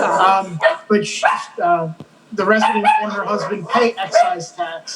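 A dog barks and yips a few times in the background under continuous talking from a nearby speaker.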